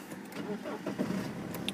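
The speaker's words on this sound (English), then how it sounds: "No issues at all starting the vehicle, it starts perfectly fine" A BMW 320d SE diesel with about 130,000 miles cranks and fires up, heard faintly and briefly from inside the car as a low, steady engine rumble.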